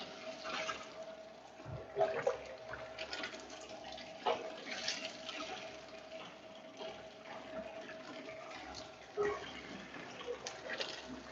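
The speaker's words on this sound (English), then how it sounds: "So you just take the stock and just pour directly into the lid" Ramen stock being poured straight into the lid of a ramen machine, a continuous liquid pour and splash with a few louder sloshes along the way, at moderate volume.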